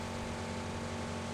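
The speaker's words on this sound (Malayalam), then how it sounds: "ഹെലികോപ്റ്റർ" A helicopter flying in the battle-royale video game BGMI (PUBG), heard as a steady, loud, dense engine and rotor drone that fills the whole moment without pause.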